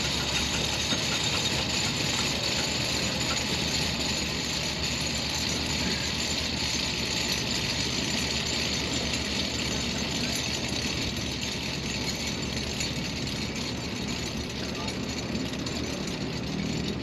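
An F-100 Super Sabre jet engine during start-up, with a steady loud mechanical roar and a rattling, knocking vibration from the turning blades, continuous and close throughout with voices talking over it.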